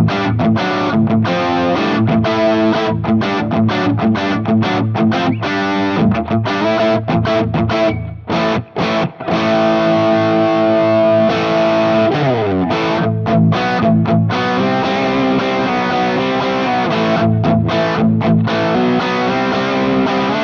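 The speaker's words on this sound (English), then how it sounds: "Let's add some distortion." Heavily distorted electric guitar playing chords and riffs steadily and loudly, with a light hall reverb and a brief dip partway through, tone suited to metal.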